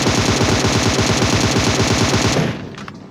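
Rapid automatic gunfire in a battle royale video game, a dense, loud continuous burst of fast repeating shots that cuts off near the end, leaving a few faint distant pops.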